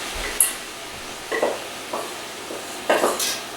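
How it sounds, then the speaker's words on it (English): A spoon stirring brown rice and vegetables in coconut oil in a pot, a few scattered scraping and clinking strokes with a soft sizzle underneath, close by and moderately loud. "brown rice, stir that a little bit"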